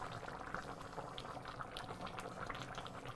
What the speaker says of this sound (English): Now we add 1 beaten egg. Just pour it like this.